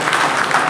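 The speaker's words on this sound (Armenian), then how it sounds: "Եկեք ծափահարենք" A brief burst of audience applause at an Armenian state cultural awards ceremony, dense steady clapping throughout with no talk over it.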